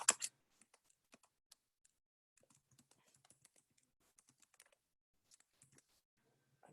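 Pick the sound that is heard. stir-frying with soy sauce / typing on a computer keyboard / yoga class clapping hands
typing on a computer keyboard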